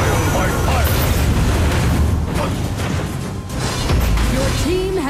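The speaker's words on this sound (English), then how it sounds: "Your team has destroyed a tower." A tower collapsing in the mobile battle game Arena of Valor, booming explosive crashes with dense game effects and a brief announcer-style voice.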